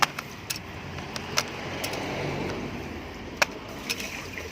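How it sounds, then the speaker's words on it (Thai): Flat metal screwdriver prying keycaps off a cheap computer keyboard, giving a few sharp plastic clicks and snaps scattered over a steady background hiss, close and fairly faint, with no talking. "ก็ใช้ไขควงนะฮะไขควงวัดไฟหรืออะไรก็ได้นะครับโลหะปากแบนๆ งัดด้านข้างปุ่มนะครับ งัดออกอย่างนี้นะฮะ"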